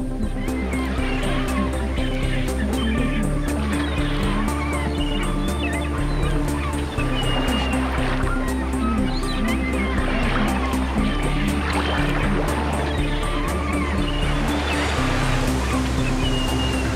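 A cormorant seabird colony on the rocky Islas Ballestas off Peru gives off a steady mass of honking, croaking calls over constant ocean surf and a low boat engine hum, with the birds layered densely throughout.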